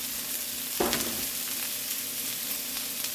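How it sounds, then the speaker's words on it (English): Chopped onions and celery hit a hot pan and sizzle steadily, a sharp crackle at the start settling into a constant frying hiss with light stirring. "we're going to put our onions and celery in there so they can saute."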